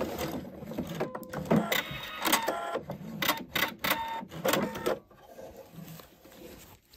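Sewing machine stitching fabric for a Christmas advent calendar, fast mechanical whirring in close bursts with brief pauses between runs of stitches and a quieter hum at the end.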